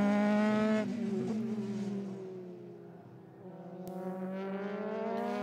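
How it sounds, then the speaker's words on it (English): A Euroformula Open single-seater race car laps Silverstone during qualifying, its engine note falling as it lifts and brakes, then rising again in a long, loud, high-pitched climb through the gears, with no talk. "That just leaves Christian Hahn as the only other car out circulating around the track."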